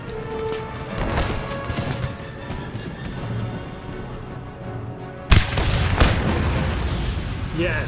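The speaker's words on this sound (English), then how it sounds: "that cannon shot's what we want" A cannon shot in Empire: Total War lands as a sudden sharp boom late in the stretch, preceded by a continuous din of battle with scattered musket cracks and clashing noise.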